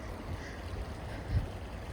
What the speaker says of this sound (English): Oh, I hear the water babbling.